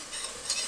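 Spoon stirring low-sodium Cajun seasoning into boiling chicken broth in a pot for creamy Cajun chicken, a steady close bubbling and scraping swirl with no talk.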